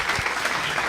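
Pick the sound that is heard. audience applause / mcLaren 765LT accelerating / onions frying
audience applause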